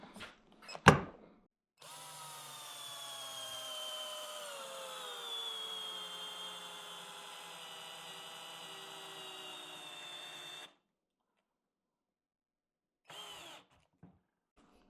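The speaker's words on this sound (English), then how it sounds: "can it drive a 6-inch screw into a 4x4?" Cordless drill drives a 6-inch screw into a 4x4 post, a steady whining motor drone lasting about nine seconds that slowly drops in pitch under load, followed by a short final burst.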